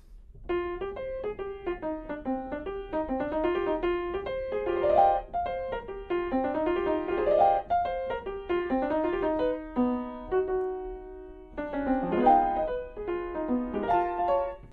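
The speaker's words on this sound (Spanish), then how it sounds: "se escucha en uno de los preludios de Debussy que tocaré mañana" Solo piano plays Debussy's prelude La Danse de Puck, quick and light with rippling runs and repeated figures, pausing briefly before resuming with bright chords.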